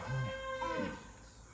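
Cows on a farm field in eastern Hokkaido, Japan, lowing in a short mooing call over steady outdoor background noise, moderately distant, with no talk.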